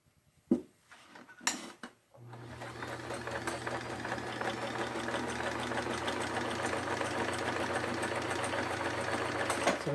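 A Sears Kenmore sewing machine stitches zigzag, starting after a few handling clunks and then running in a steady, close mechanical whir with rapid rhythmic needle clatter.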